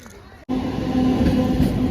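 A crowded train at a busy Bansberia railway station on Bengali New Year suddenly rises into a loud, steady rumble with a low hum, with people talking nearby.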